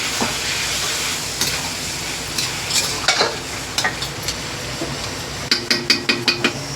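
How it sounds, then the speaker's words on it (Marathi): Chicken frying in oil for a dum biryani, a steady close sizzle with stirring clatter and rhythmic scraping strokes toward the end, no talking. "तर आता आपण असं सगळं फ्राय करून घेऊया."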